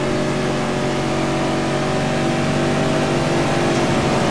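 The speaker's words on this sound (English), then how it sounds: "I found that the engine sounds are quite good, not too bad at all" An Australian muscle car's V8 engine in a free racing game revs loud and steady throughout, a continuous dense roar with no pauses or voices.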